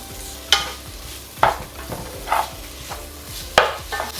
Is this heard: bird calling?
no